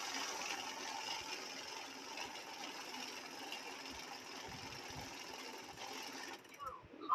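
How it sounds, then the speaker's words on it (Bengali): A note counting machine running through a stack of cash with a steady, faint mechanical whir, which cuts off near the end and is followed by a few light clicks. "ক্যাশ মেশিনটা খুবই সুন্দর কাজ করে"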